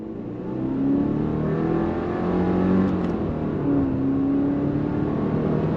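A 2024 Subaru Impreza RS with a CVT in manual shift mode accelerates under throttle, its engine note rising and gliding through simulated shifts. The drone stays loud and steady as heard from inside the cabin, with no talking.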